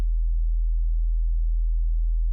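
A steady, very low 41 Hz sine tone hums continuously at constant volume, deep and smooth, with no other sounds.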